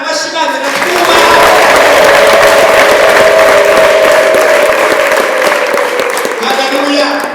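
A church congregation bursts into loud, sustained applause that fills the room for several seconds, with crowd voices and a held vocal tone mixed in before it eases off near the end.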